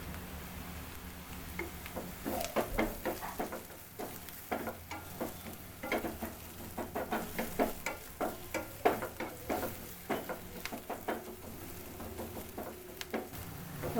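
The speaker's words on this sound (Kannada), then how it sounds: "ಈರುಳ್ಳಿ ಸ್ವಲ್ಪ ಫ್ರೈ ಆಗಲಿ." Onions sizzling and frying in a pan for a masala omelette, with irregular stirring scrapes and ticks over a steady low crackle, close and moderately loud.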